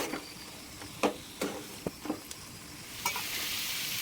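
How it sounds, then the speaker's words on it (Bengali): Pointed gourd pieces stir-fried in a pan, with a low steady sizzle broken by a few sharp scraping and clinking strokes of the spatula, close and alone without any voices. "পটলগুলো দিয়ে এবার আমি একটু কষিয়ে নিচ্ছি"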